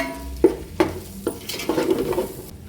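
Spoon stirring a masala mixture of garam masala and salt in a cooking pot for kuska biryani, with a few sharp metallic scrapes and knocks against the pot, close and fairly quiet, no talking.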